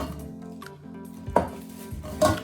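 Edenberg EB-4078 cooking pots being unpacked and handled: a few close metallic knocks and clanks of pots over a low background hum, with a couple of sharper bumps near the end.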